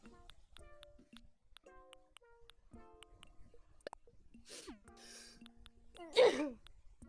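A single sneeze bursts out near the end, after a stretch of quiet electronic game chimes and soft tones from Animal Crossing.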